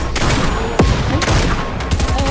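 Loud, close gunfire rings out in a Fortnite match, with several sharp shots over a dense backdrop of game noise.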